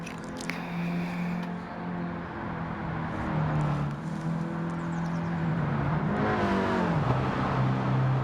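A car engine in the My First Gran Turismo video game drones steadily and revs higher, its pitch climbing and dipping as it pulls hard over several seconds.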